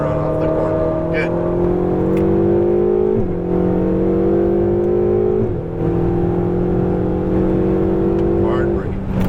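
A Ferrari 488 GTB engine drones loudly on a track lap, holding a steady note. It briefly drops and climbs again at two gear changes, with continuous speech running over it.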